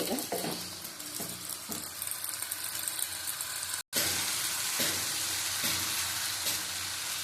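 Ripe mango chutney sautéing over high heat, a steady broadband sizzle with intermittent stirring scrapes, briefly cut off by a moment of silence midway before the frying resumes just as loud.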